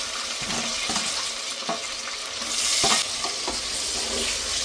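Ginger garlic paste and chicken pieces sizzle steadily in hot oil for biryani, with a continuous loud frying hiss broken by the scrape and clatter of a spoon stirring through the pan.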